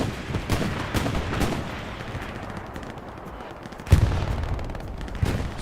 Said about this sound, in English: Lots of rockets coming out